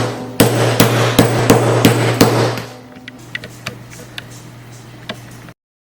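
A series of sharp hammer blows strikes a hard plastic coin slab, about eight quick knocks, then quieter cracking and small taps as pieces break apart.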